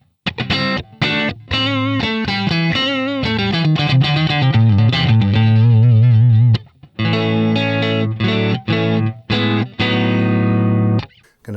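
Electric guitar played through a Line 6 Helix modeler with the Deluxe Comp compressor: loud, sustained, effects-laden notes and runs with distortion and chorus shimmer, briefly pausing before chords ring out again.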